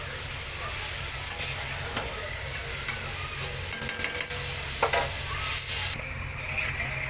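Mutton and potatoes are pan-fried together, making a continuous, fairly soft sizzle with occasional clicks and scrapes of stirring.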